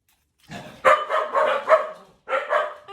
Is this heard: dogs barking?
yes